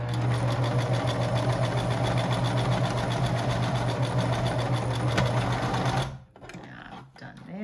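A sewing machine stitches a silk mask casing, running with a steady, close mechanical hum and rapid needle clatter for about six seconds before stopping abruptly, leaving quiet handling noise.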